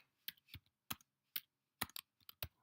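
Keys on a computer keyboard clack in short irregular bursts of typing, close and crisp, with near silence between strokes.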